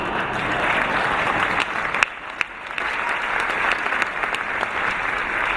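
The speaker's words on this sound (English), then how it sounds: "I want to get some gratuitous applause by saying thank you to the New York City Police Department." Steady applause from an audience at a New York City Council inaugural ceremony, dense clapping that dips briefly midway before resuming at full strength.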